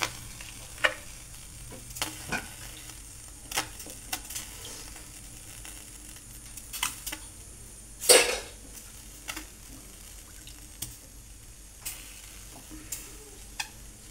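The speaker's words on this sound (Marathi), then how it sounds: "भाकरी टाकली आता मी त्यात पाणी लावून घे" A bajra bhakri dabbed with water on a very hot griddle gives a faint, steady sizzle, broken by scattered soft ticks and one sharper clatter near the middle.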